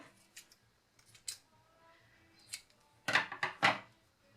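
Scissors snipping through string for a junk art mixed media piece, a few scattered light cuts followed by a rapid cluster of louder, crisp close snips, with no talk.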